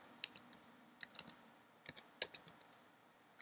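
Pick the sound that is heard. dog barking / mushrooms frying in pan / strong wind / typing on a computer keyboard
typing on a computer keyboard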